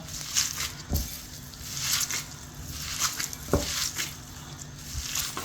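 A seekh kebab mixture being mixed by hand with salt and spices, heard as soft, repeated squishing and patting with occasional light knocks against the bowl, close and quiet.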